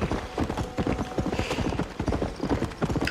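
Horse hooves clip-clop at a steady, rapid gallop in the video game Red Dead Redemption, a dense continuous rhythm of close, loud hoofbeats with no talk over them.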